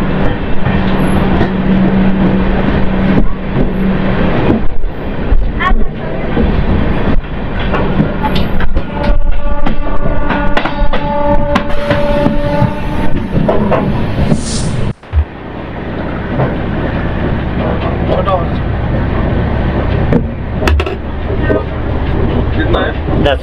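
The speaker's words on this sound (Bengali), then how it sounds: "এই মুহূর্তে কিষানগঞ্জ স্টেশনের ট্রেন এসে পৌঁছালো" A train rolls into Kishanganj station with a loud, steady rumble and clattering wheels, joined by a sharp hiss midway. Voices and ambient carriage noise mix throughout.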